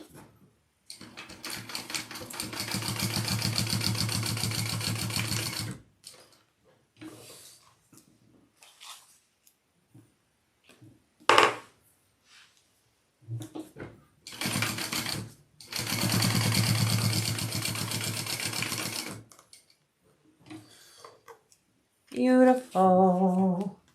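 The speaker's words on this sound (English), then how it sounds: "I'm going to go ahead and now baste the edges here to keep this piece where it needs to be." A sewing machine bastes the fabric edges of a crossbody bag in two long, steady runs of fast stitching, separated by brief handling noises and pauses.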